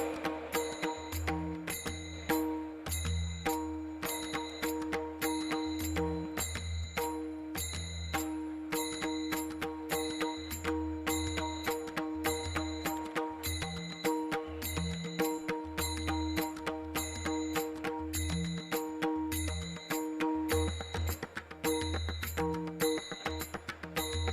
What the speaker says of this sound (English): A beautiful gathering of all the international delegates joining hands in ringing the bell of world peace.